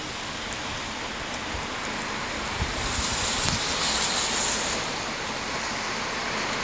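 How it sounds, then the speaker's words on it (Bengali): Heavy rain pours down in Al Hasa, Saudi Arabia, among village roads where water is pooling. It makes a dense, continuous hiss at steady loudness, alone with no voices. "সৌদি আরব আল হাসা খুব অনেক বৃষ্টি হচ্ছে, প্রচুর বৃষ্টি হচ্ছে"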